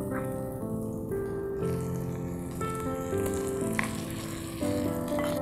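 Marinated mutton sautés on high heat in ginger garlic paste, giving a steady close sizzle and frying crackle, while a person talks over it with a tonal background underneath.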